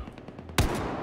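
A sudden loud burst of gunfire in the Battlefield 4 campaign, firing at about the halfway mark and ringing out over quieter game ambience before it.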